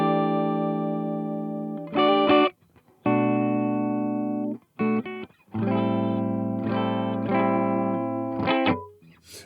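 Electric guitar through an amp with a Chase Bliss MOOD effects pedal, playing chords and short bursts with abrupt stops and warbling, processed tones, loud and close.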